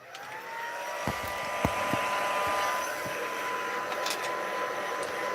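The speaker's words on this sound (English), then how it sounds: "so I might just go over with the heat tool" Craft heat tool drying ink and alcohol on a mixed-media sheet, a steady close blowing whir with a faint high whine, broken by a few light taps.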